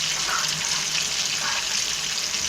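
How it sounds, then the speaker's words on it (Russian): Macaroni stirred in a pot of boiling water on a home stove, a constant watery rushing and bubbling close up, with no voice over it. "Макароны помешиваю"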